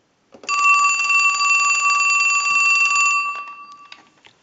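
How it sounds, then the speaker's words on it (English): A Western Electric Trimline telephone's mechanical bell rings loud and steady through a single ring burst of about three seconds, then cuts off, leaving a brief fading ring and faint clicks. "we're going to ring the unit, so we'll start a ring cycle."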